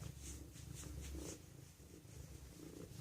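A cat purring steadily up close, a low continuous rumble with rhythmic breath cycles, loudest in the first second and a half, alone without talk.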